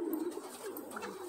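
Racing pigeons of the Van der Wouwer line in a loft give soft low cooing, a brief murmuring call close by with faint background noise.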